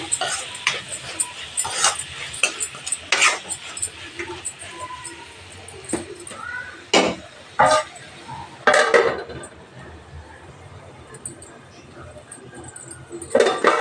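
Onions with salt being stirred in a metal pan for curry, with irregular scraping and clinking of a spoon against the pan, some sharp knocks, under occasional low talk.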